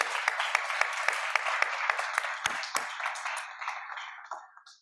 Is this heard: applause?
yes